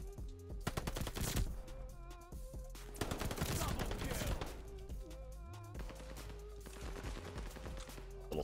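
Rapid bursts of automatic gunfire in the shooter game Call of Duty Vanguard, with dense clusters of loud shots separated by short pauses.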